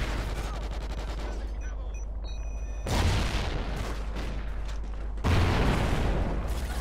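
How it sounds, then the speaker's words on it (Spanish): Video game explosions and gunfire played through an Indeca PX440 headset: dense, continuous rumbling blasts with two heavier booming surges, loud and close throughout. "Las explosiones se escuchan, que no vea."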